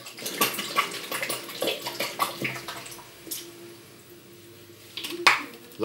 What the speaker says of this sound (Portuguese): Lá se foi o leite de coco.